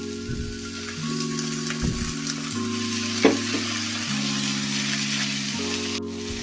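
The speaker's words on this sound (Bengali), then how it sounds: "এবার আমি এতে ঢেলে দেব লাউয়ের খোসা বাটাটা" Bottle gourd peel paste fries with chopped onion and garlic in a pan, a loud, steady sizzle with occasional stirring scrapes, under soft background music and without talk.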